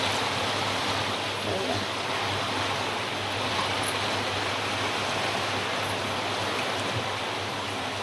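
Reserved crab cooking water is poured into a pot of village-style black crab curry, giving a continuous, even rushing splash that holds steady for several seconds at low level.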